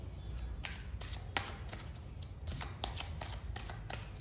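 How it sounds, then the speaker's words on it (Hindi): Tarot cards shuffled close up, with steady riffling and flicking strokes repeating in a quick rhythm throughout over low background noise. "तो मैं एक बार और शफल कर लेती हूँ"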